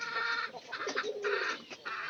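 Chickens cluck softly while feeding on flour and rice at a rural coop, making short, scattered, low clucks over a steady background hiss, faint and nearby.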